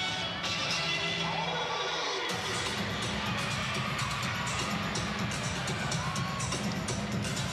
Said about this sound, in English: You can see the team getting into it on the sideline there as well.